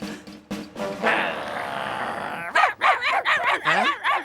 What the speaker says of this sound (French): c'est sur moi que vous aboyez là